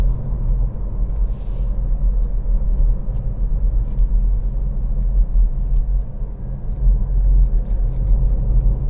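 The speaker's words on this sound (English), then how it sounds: "push into first gear, let the car roll to the line, and then if you see there's no one coming, just do the clutch control and carry on going" A car creeps through a road junction in first gear, its engine a steady, close low rumble that holds evenly throughout with no talking.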